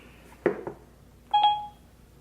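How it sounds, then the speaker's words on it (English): A phone gives a short electronic activation chime for Siri, two soft tones followed by a brief rising beep, clear and close in a quiet room. "Every time I say seriously, Siri pops up on my phone."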